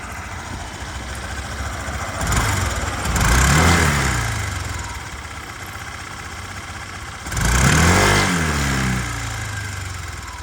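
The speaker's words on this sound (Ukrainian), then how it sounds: "та й сама Honda взагалі дуже-дуже тихенька по роботі двигунчика" A fuel-injected Honda SH Mode 125 scooter idles with a low, steady hum, its engine swelling twice in brief revs before settling back to a quiet, even idle.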